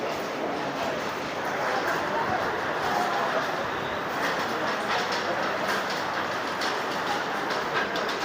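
The Kanchenjunga Express stands at a station with a steady, close rumble and faint clatter of railway cars, while voices carry through the background.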